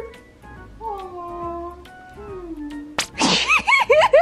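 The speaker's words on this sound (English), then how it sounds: "this cat is so cute" A pet cat gives a couple of drawn-out meows, then a burst of sharper, rising cries near the end, close and fairly loud in a quiet room.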